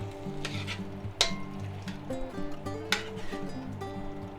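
Shrimp and bell peppers sizzling and being stirred in a hot pan, a close, steady frying hiss broken by scraping and clinks of a utensil against the pan, with a faint musical backing underneath.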